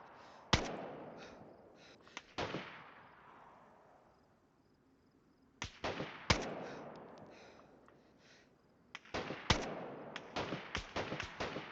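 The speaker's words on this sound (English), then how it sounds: "He's shooting. I'm shooting. We're all shooting." Video game firefight set in Paris Isle, with sharp gunshots in clustered bursts split by quieter stretches, some shots sounding close and some farther off, and no talking.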